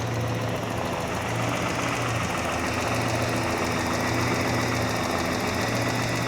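A Saab car engine idles with a steady low rumble and faint rhythmic knocking, constant throughout.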